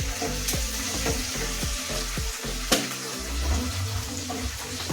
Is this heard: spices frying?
yes